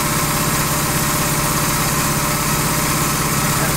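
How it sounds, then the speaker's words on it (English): A Predator 301cc engine, apparently driving a generator, runs under a load test with a loud, buzzing, steady drone and rapid firing pulses, close up and continuous with no talking. "And now I'm going to do a load test to see"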